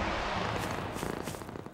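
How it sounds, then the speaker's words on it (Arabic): A cat purrs close by in a soft rhythmic rumble that pulses gently and grows slightly choppier toward the end, with no talking. "قطوة مشاكسة."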